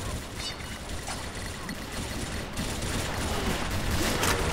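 Dense, continuous gunfire from the Xshot online shooter game, in a fort-destruction match. It is a loud, unbroken barrage of overlapping shots with no speech.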